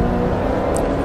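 Ferrari 458 engine in the racing game Assetto Corsa, a loud, steady high-revving drone lasting about a second without a break, heard alone.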